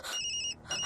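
A mobile phone ringtone for an incoming call, a brief electronic ring with steady high tones that cut out and then resume. No voices are heard over it.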